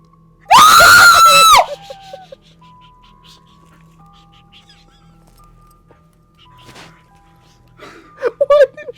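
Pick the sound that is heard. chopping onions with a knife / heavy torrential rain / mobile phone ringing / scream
scream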